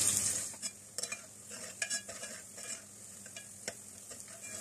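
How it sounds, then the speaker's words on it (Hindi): Onions frying in very hot oil in a pan, a soft steady sizzle broken by scattered clinks and scrapes of stirring, fairly quiet and close with no talking. "ऑयल तेज गर्म हो चुका है, इसमें प्याज डालेंगे और प्याज को लाइट गोल्डन होने तक फ्राई कर लेते हैं"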